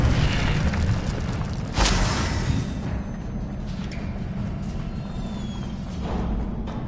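Incendio fire spell cast in the Hogwarts Legacy video game, a loud whooshing burst of flame that flares suddenly, then a second softer flare follows over a dense rumbling background.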